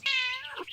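A cat gives one short, clear meow, close and fairly loud, its pitch dipping at the end, with a faint trailing note and no talking.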